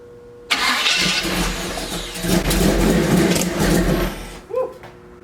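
Chevy C10 engine sitting unused for two years: it cranks and catches at once, then runs roughly and loud for about four seconds before cutting off, with a brief sputter afterward.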